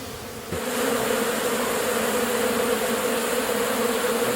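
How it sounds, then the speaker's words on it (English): A steady, dense drone of many honeybees buzzing close by, starting abruptly after a brief quieter moment and holding constant throughout. "A lot of young bees."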